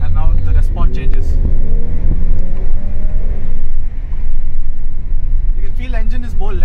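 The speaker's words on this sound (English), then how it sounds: "you can hear the exhaust, beautiful exhaust" A Mercedes-Benz GLC43 AMG accelerates in sport mode, its engine and exhaust giving a loud, steady rumble from inside the car that swells and holds, while someone talks over it at the start and end.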